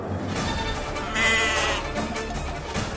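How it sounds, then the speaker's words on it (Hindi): A sacrificial goat bleats in a few drawn-out wavering calls, close and fairly loud, with no talk over it. "बलि का बकरा ये रहा।"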